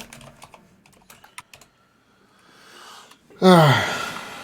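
Rapid mouse or key clicking while playing a clicking video game, a quick irregular run of light taps, then a brief loud burst of voice or breath near the end.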